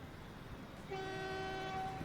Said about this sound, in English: Here's another train coming in.